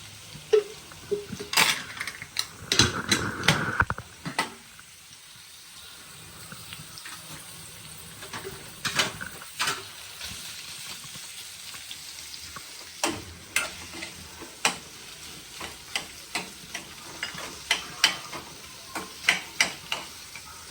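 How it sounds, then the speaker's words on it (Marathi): Onion fries in oil with a low sizzle while a spoon stirs it in the pan, giving repeated scraping knocks in an irregular rhythm, louder at the start and again toward the end. "कांदा असं मस्त आपल्याला लाल होऊन द्यायचा त्याला वेळ लागेल तर मी असं मस्त असं परतून घेते"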